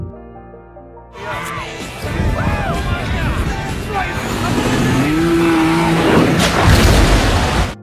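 An ATV is driven and jumped over a pool that has been set on fire. After a quiet opening, a loud, steady engine roar builds and holds close by, with voices mixed in.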